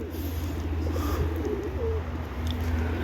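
A runaway tumbler pigeon coos softly beside its loft, low throaty calls under a constant low hum, with a few faint chirps from other birds in the distance and no talking.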